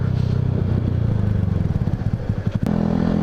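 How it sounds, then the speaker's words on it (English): A Yamaha R125 motorcycle with an obnoxiously loud exhaust putters close by at low RPM, a rough, popping rhythmic burble with a short blip near the end. "I really hope you can hear me over my exhaust because it is obnoxiously loud"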